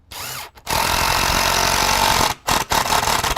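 A power drill drives deck screws into wooden blocking without pre-drilling, two loud sustained whirring runs, the first long and the second shorter and broken, separated by brief silent pauses.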